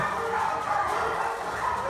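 Dogs bark and yip in a Humane Society shelter's dog area, a continuous overlapping chorus of barking echoing through the kennels, moderately loud and without pauses.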